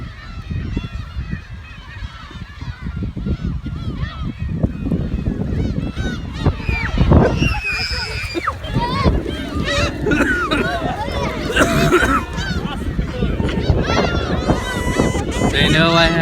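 Seabirds on Kabu-shima Island crowd close and call loudly in a constant squawking, honking chorus, with a voice talking over the din and rustling handling noise throughout.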